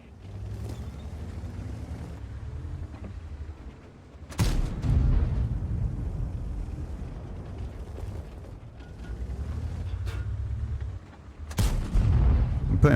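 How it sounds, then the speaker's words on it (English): Heavy tank cannon blasts from an AMX 30B in World of Tanks, with two loud booming shots several seconds apart over a low rumbling engine and mechanical clatter between them. "I'm putting blind shots in."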